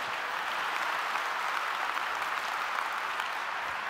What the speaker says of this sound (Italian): non so se tu riesci a sentire l'applauso che si sta tenendo qua